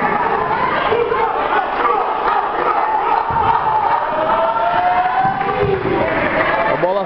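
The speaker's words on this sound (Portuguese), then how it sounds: "Os tricolores comemoram." Fluminense supporters roar and cheer continuously after a goal at an under-8 youth futsal match in an indoor gym, a dense crowd wash with shouts and chatter throughout.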